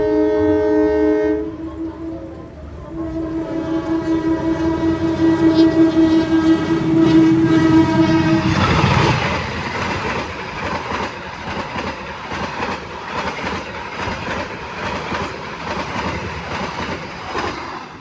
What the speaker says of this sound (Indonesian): ini dia kereta api Sawung Gali KA112 melintas langsung stasiun Kosambi dengan lokomotif 203 9807